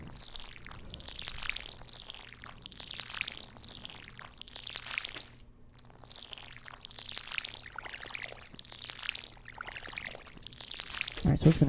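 A watering can pours over parsnip crops in Stardew Valley, a series of repeated soft splashing gushes with short gaps, moderately loud over light background music.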